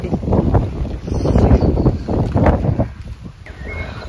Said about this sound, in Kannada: ಗಾಳಿ ಗುಡುಗು ಎಲ್ಲ ಸ್ಟಾರ್ಟ್ ಆಯಿತು